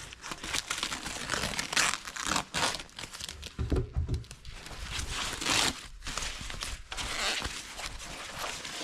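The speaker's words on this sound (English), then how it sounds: "Cut off protective material." Protective film and material being cut and peeled from carbon fiber side and rear vents for a Lotus Emira, a close, continuous crinkling and crumpling with sharp tearing bursts throughout.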